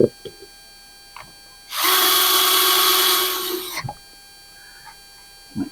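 A power tool drives a bolt home on a Honda EU2000i generator in a single loud whir of about two seconds. A few small clicks and taps come before it and after it, with quiet in between.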